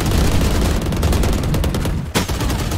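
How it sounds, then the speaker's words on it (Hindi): Rapid bursts of automatic gunfire from the video game Valorant during a tournament match, loud and dense, sounding almost continuously with a brief gap near the end. "सेज कह रहे हैं बस मैं गोली चलाऊंगा"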